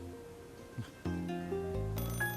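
A telephone rings in a dramatized household scene, a bright electronic ring tone entering after a soft thump and layered with swelling music, close and clear with no talk.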